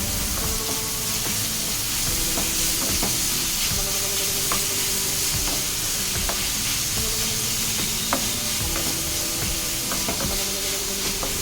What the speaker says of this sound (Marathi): आता हा चिरलेला कांदा छान गुलाबी रंग येईपर्यंत परतून घ्यायचा